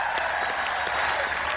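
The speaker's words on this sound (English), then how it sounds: "Give them a big cheer." Dense, sustained applause comes from a large audience at a youth summit in Bangkok. A crowd cheers for a group of children singers, and the clapping stays steady and full throughout.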